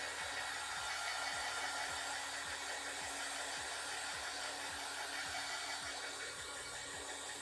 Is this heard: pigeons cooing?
no